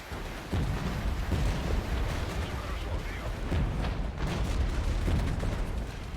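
Incoming fire in the war game Regiments: a dense, steady rumble of artillery and gunfire with repeated booms and pops, loud and continuous throughout, with a voice talking over it at times.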